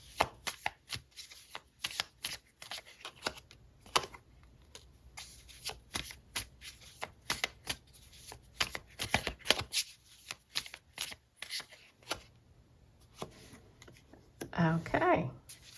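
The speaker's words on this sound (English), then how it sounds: "I'm going to keep pulling cards and then I'm going to talk to you" Tarot cards being shuffled and pulled, giving a steady run of crisp riffling flicks and slaps close by, with a brief louder rustle of handling at the end and no talk.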